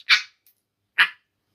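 A baby African grey parrot imitates a dog's bark or cough with two short, sharp, bright yelps about a second apart, close and clear, with a tiny faint sound between them.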